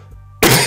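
After a brief quiet moment, a single sharp, harsh cough bursts out close to the listener.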